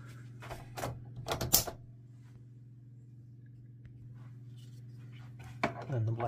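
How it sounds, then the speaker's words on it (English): Colour ink cartridge being installed into an HP ENVY printer, a few sharp plastic clicks and snaps near the start and again at the end, over a low steady machine hum. "lift these clamps, install the color cartridge first."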